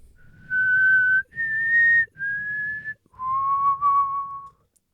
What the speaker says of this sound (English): we're recording, so you wanna open up with the whistle?